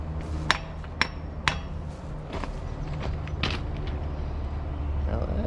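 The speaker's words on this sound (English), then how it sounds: "Just wiggle my hammer around in there to help things line up." A hammer strikes metal while an excavator bucket is being worked on, three sharp ringing clanks about half a second apart followed by lighter taps and knocks over a low engine rumble.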